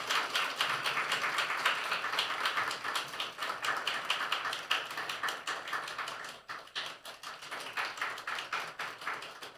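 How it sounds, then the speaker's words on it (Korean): A church congregation at a Wednesday prayer meeting claps steadily in sustained applause to welcome a visiting pastor, the claps dense and continuous before thinning briefly and picking up again. "우리 축복의 박수로 맞이하면 좋겠습니다"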